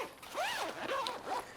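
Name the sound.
zipper on Incase A.R.C. travel pack being pulled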